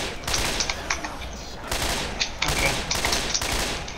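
Rapid bursts of gunfire from a shooter video game crackle in several clusters across the whole stretch, loud and dense with brief gaps between volleys.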